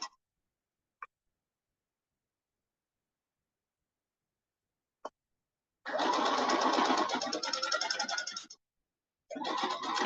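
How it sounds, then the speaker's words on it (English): A sewing machine top stitching scuba fabric on a color block hoodie: a few faint clicks, then a steady buzzing run of about three seconds, a pause, and another run starting near the end. "I'm going to go ahead and continue to top stitch everything"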